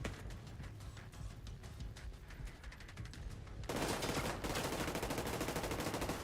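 Rapid automatic gunfire from a firefight in the video game The Division, with dense, continuous bursts of shots that grow louder and fuller partway through, with no voices.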